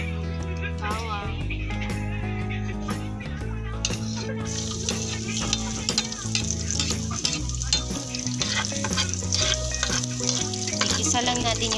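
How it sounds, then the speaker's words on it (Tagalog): Garlic sautéing in hot oil, with a steady, close sizzle and frying noise throughout, while music and a voice sound over it. "Igisa lang natin yung bawang guys."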